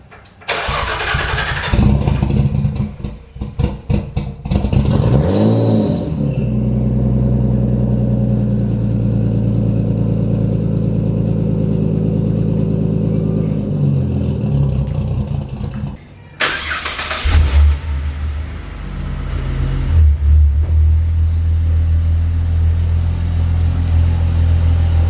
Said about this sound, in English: me driving outside my garage and moving cars around